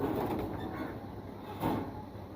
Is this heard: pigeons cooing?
yes